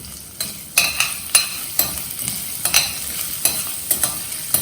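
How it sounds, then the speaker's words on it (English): Green chillies stirred in a pan while cooking aloo gobi pulao, a utensil scraping in a steady series of rhythmic strokes over a soft sizzle, close and fairly loud, with no talking. "Then stir a little bit."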